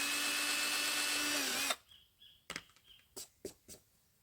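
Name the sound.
drilling holes in display board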